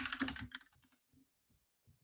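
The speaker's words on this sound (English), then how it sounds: "I'm going to go ahead and type our setup function" Computer keyboard typing, a short burst of clicking keystrokes up close, then a few sparse, faint taps with quiet gaps between them.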